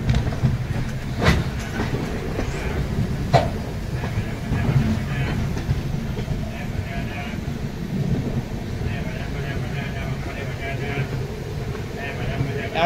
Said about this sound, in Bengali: ফাইনালি ভুবনেশ্বর স্টেশন থেকে ট্রেন ছেড়ে বেরিয়ে যাচ্ছে